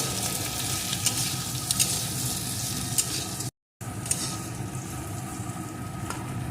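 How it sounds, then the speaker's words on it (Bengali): Papaya pieces frying in a pan with pointed gourd give a dense, close sizzle with occasional stirring scrapes. The sound drops out for a split second midway, then carries on unchanged. No speech. "একসাথে পেঁপের টুকরোগুলোকেও দিয়ে দেব এখন এগুলোকেও এর সাথে ভালো করে ভেজে নেব"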